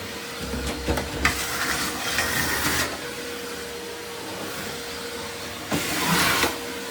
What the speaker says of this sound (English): Might just vacuum the coffee grounds